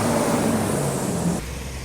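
A car or similar road vehicle rushes past on a road in Mindanao, a loud broadband swell that cuts off abruptly partway through, leaving quieter low rumble behind.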